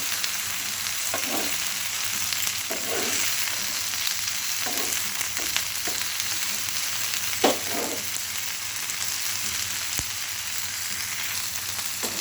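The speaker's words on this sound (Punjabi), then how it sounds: "ਸਾਰਾ ਤੜਕਾ ਜਿਹੜਾ ਲੱਗ ਜਾਣਾ ਇਹਨਾਂ ਨੂੰ ਬ੍ਰਾਊਨ ਹੋ ਜਾਣਾ" Garlic tempering fries with eggplant pieces in a pan, a continuous close sizzle broken by several scraping stirs of a spoon at irregular intervals, with no speech.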